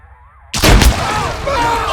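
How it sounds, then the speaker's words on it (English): A grenade blast in Arma 3 with the IFA3 mod: after a quiet lead-in, a sudden loud explosion bursts in, followed by a sustained rumbling, debris-filled roar. "See what a grenade does."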